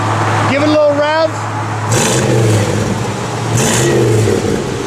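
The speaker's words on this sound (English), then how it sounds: "Give it a little rev." The engine of a 1986 Chevrolet Blazer K5 idles loudly nearby and is blipped into a couple of short revs, with a voice talking over it.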